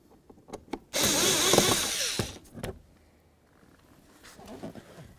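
A power drill whirs loudly for about a second and a half while backing screws out of a 2007-14 Ford Edge front door during a latch replacement, followed by a short second burst, with light tool clicks and handling before and after.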